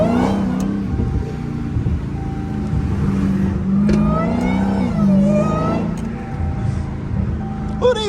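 A Dodge SRT Hellcat with straight pipes revs close by, its loud engine rising and falling through several throttle blips over a steady rumble, with faint voices in the background.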